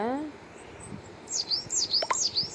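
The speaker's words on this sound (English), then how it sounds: "the sparrows are making a lot of noise and disturbing Alpaca from study" Several short, bright chirps and tweets from sparrows in a children's learning game, clustered in the second half after a quieter start with a brief low tone.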